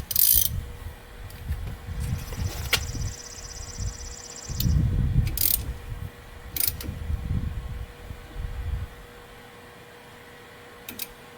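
Socket wrench ratcheting on a 14 mm bolt during a front driver side brake job on a 1999 Ford Expedition, with several bursts of rapid clicking between short pauses, close and moderately loud.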